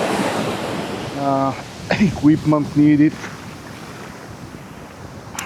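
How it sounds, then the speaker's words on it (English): Atlantic Ocean surf washes steadily onto Maspalomas beach in Gran Canaria, with wind buffeting the microphone while someone speaks briefly over the waves. "Here you can see the Atlantic Ocean."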